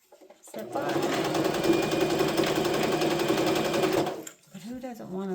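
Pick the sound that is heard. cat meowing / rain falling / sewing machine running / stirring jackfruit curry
sewing machine running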